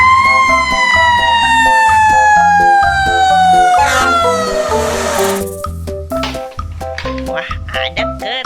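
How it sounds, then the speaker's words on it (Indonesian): A toy fire engine's siren wails loud and close, its tone sliding steadily downward before breaking off into bright electronic music. "Mobil pemadam kebakaran."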